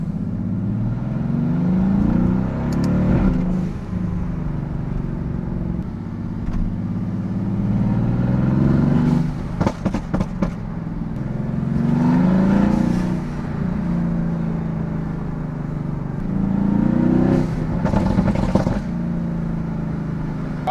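A twin-turbo V8 Mercedes-AMG GT S engine roars and revs in repeated surges in a city downtown, rising and falling over the stretch, with sharp bursts of throttle throughout and no talking.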